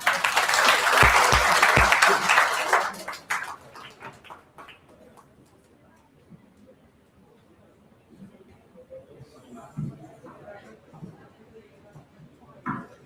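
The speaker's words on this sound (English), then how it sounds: "Please welcome Vishal with a round of applause." A college orientation audience gives a loud burst of applause to welcome a speaker. The applause fades after about three seconds, leaving quiet room noise and scattered faint voices.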